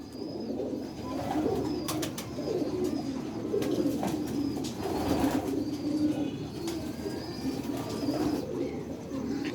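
Sialkoti Jaunsra Chuha pigeons coo softly and repeatedly, with occasional bursts of wing flapping and faint chirps from other birds in the background.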